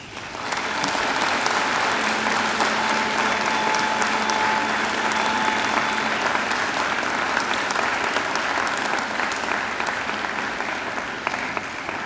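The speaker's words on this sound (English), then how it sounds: "I invite you to give them a mighty round of applause." A graduation audience of families and friends at a Macquarie University ceremony gives a sustained, loud round of applause lasting the whole stretch, dense clapping with a faint tonal hum beneath.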